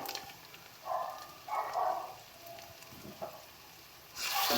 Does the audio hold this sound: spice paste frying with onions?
yes